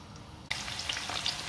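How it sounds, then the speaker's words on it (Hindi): Chicken fingers frying in oil, a quiet hiss that jumps into a denser crackling sizzle partway through, continuous and close, with no voices. "और इनको हम 4 से 5 मिनट के लिए दोनों साइडों पर फ्राई करेंगे।"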